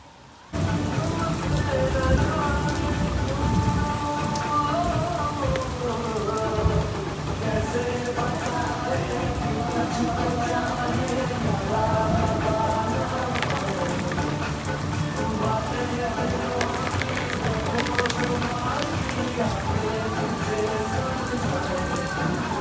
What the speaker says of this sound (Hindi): अब तो समझ लो बस बूंद बूंद गिर रही है